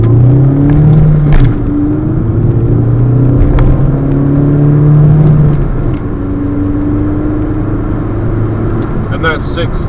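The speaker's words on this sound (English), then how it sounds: "Now hopefully I can get to do a 0 to 60 test in a moment" A 2009 Volkswagen Golf with a 2.0 engine accelerates hard from standstill on an open dual carriageway, its engine note droning steadily and climbing through the gears, loud and close inside the cabin.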